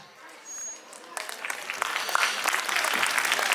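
Audience at a school annual day celebration bursts into applause after a brief quiet moment, a dense, steady clapping from a large crowd that keeps building, with faint speech underneath.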